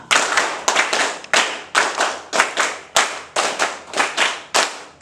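Several rounds of the tepuk Pancasila pattern from a standing group, crisp unison claps in repeating bursts, close and loud, with no voices.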